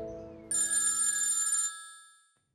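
A telephone rings once in a short electronic trill lasting about a second, then fades out after a brief lower tone at the start.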